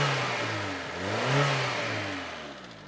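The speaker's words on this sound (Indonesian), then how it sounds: "Kita geber sedikit ya teman-teman." A 1996 Honda Civic Ferio manual's engine revs up twice, rising and falling in pitch, close by and fairly loud with a steady mechanical roar underneath.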